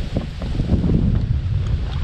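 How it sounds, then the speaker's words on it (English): Wind gusting over open water on a bass-fishing outing, a constant loud rumbling buffet against the microphone with low roar and no clear speech. "That wind's starting to pick up."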